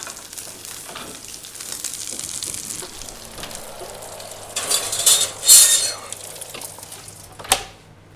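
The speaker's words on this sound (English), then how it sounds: "So I'm just going to drain the fat away." A steak pan is tipped to drain off the fat, giving a soft hiss and sizzle with scraping and a metallic clatter of the pan, plus a sharper clink near the end.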